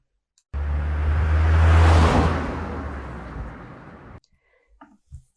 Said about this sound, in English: And then we have car pass by.